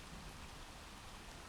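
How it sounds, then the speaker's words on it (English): Steady rain falls outside on a wet evening, a dense even hiss of drops with no voices. "It is a very rainy and kind of miserable evening"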